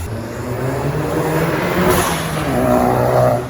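A Volkswagen MK7 GTI engine revving through an open cone-filter intake, a steady loud engine drone with rising and falling revs across the clip.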